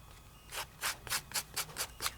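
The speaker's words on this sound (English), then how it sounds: "you're going to run the additional color glitter over the top" Glitter being rubbed by hand over a Tim Holtz Frameworks die-cut frame: about seven short, even scratchy strokes in a steady rhythm, close and fairly quiet, with no talking.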